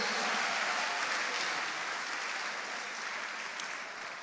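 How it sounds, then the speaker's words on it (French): Church congregation applauding at a French-language service: a steady wash of many hands clapping, fairly quiet and distant, tapering off slightly toward the end. "Si tu n'es pas marié, applaudis fort."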